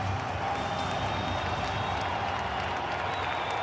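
A baseball stadium crowd at an NLCS playoff game, Dodgers at Brewers, keeps up a steady roar of applause and cheering behind a young pitcher, loud and unbroken throughout.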